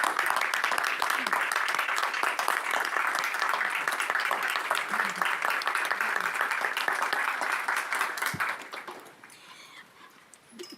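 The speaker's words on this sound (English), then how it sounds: "Please give it a round of applause to our members." A crowd claps steadily in applause for Ruritan Club members at a community gathering, dense and sustained for about nine seconds before thinning out and fading to quiet room noise near the end.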